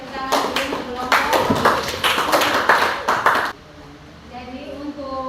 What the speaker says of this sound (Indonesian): kita berikan tepuk tangan dulu untuk kelompok